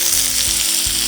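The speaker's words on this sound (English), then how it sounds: "we're gonna let this saute and come together for a few minutes and that garlic to cook" Garlic and peppers sautéing in a pan over a campfire, a loud, dense, unbroken sizzle close by with a couple of faint low bumps underneath.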